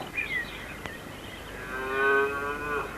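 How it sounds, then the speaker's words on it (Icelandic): A cow moos loudly in a long, drawn-out low call that swells toward the end, following a brief, higher bleating note at the start, heard close by with no talking. "kúnni brá svo mikið að hún tók að baula miklu hærra en Passepartout"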